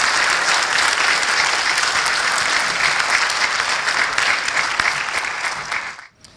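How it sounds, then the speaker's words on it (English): Graduation-ceremony audience at the College of the Muskogee Nation applauding in a steady, dense round of clapping that holds for several seconds, then fades and stops abruptly near the end. "you can give a round of applause if you want to"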